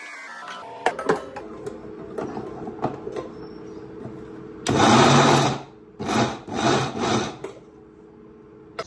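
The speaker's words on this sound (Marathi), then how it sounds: "मिक्सर मध्ये बारीक करायचं मलिदासाठी" Electric mixer grinder whirring as it grinds ingredients fine for malida at a village fair: loud motor bursts around the middle, first one long run then several shorter pulses, with quieter clattering and handling noise before.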